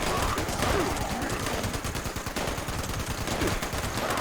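Rapid automatic gunfire from the video game Fallout 76, a dense, continuous, loud stream of shots with clattering bursts throughout, with no pauses.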